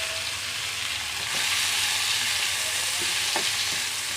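Vegetables fry in a couple of spoons of oil for gola kabab, a dense close sizzle that swells louder partway through, with a few soft stirring knocks.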